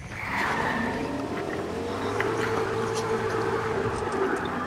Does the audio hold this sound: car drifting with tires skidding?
yes